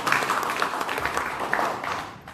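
Seated audience at an Indonesian presentation clapping on cue, a brief burst of dense, fairly close applause that stays steady and then begins to thin out at the end.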